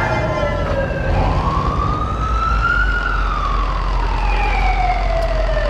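A police car siren in the video game Watch Dogs 2 wails loud and close, a single rising and falling tone over low engine rumble, with no talk.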